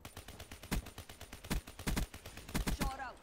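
Rapid automatic gunfire in Black Ops 3 crackles in uneven bursts of sharp shots, loud and close, ending with a brief whooshing game effect.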